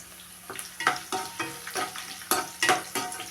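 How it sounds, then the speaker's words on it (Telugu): Onions frying and being stirred in a pan as okra fry is prepared, giving soft steady sizzling broken by several scraping stir strokes at an irregular rhythm, close by and without speech. "ఉల్లిపాయలు వేగనివ్వాలి."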